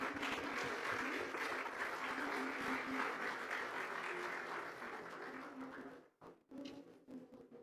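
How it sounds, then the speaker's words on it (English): A large audience applauds in a conference hall at the Tamil Nadu Global Investors Meet 2024, with dense, sustained clapping for about six seconds before it thins out and fades to scattered claps. "please give a big applause to the"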